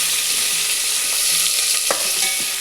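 Potatoes, onions and tomato with curry leaves and ginger-garlic paste sauté in a pan for a festive bhaji, giving a loud, steady sizzle with occasional stirring scrapes and taps, no talk.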